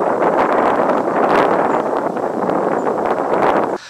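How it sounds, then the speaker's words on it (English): Extremely strong wind roars and buffets a microphone outdoors during bird photography, a dense continuous rumble that stays loud throughout before dropping off abruptly at the end. "It was extremely windy."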